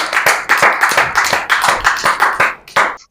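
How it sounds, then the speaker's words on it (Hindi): A poetry gathering audience gives a hearty round of applause, clapping loudly and close up in a pulsing, rhythmic pattern before it cuts off abruptly. "जोरदार तालियों के साथ स्वागत करें"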